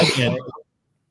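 A short, harsh cough or throat-clearing burst up close, broadband and rough, cutting off abruptly into silence.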